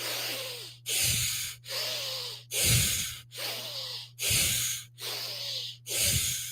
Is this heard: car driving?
no